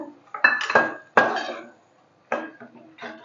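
Small masoor lentils tipped into a cooking pot make clattering, rattling bursts of hard grains striking metal, with two main pours close together, then quieter trickles and pauses.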